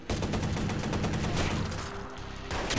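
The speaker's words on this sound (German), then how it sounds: "Ich stehe unter Schuss." Rapid gunfire in the video game Watch Dogs: a dense, loud burst of overlapping shots with a sharp rhythmic stutter, sustained for nearly three seconds with no talk.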